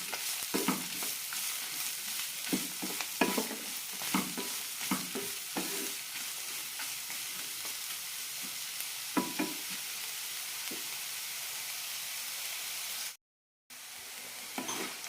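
Bottle gourd chutney cooking in a pan, stirred now and then, giving a soft continuous sizzle broken by repeated scraping strokes of a spoon, close up, with a brief dropout near the end.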